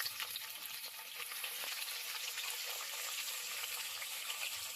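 Cinnamon, cloves, cardamom and onion sizzle in a pan for vegetable biryani, a steady bright frying crackle with faint stirring scrapes, close and continuous, no voices.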